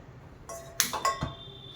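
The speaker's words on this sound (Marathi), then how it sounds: "यासाठी मी हे पातेलं ठेवलंय" A metal cooking pot is set down on a stove: a few sharp clinks and a clanging knock, close and brief, against a quiet kitchen background.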